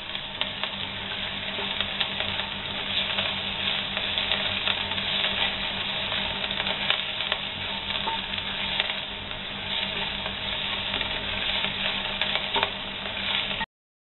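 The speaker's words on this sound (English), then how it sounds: "Then add 1 tablespoon ginger, chopped ginger, and stir it." Steady sizzling of chopped ginger frying with dal in a pan, with faint stirring scrapes, close and continuous at a low, even level.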